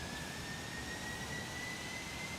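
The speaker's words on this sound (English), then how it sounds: "we can see the engine starting here" Jet engine spooling up during start in the X-Plane 12 flight simulator: a steady broadband roar with a thin whine slowly rising in pitch, constant and loud, no voices.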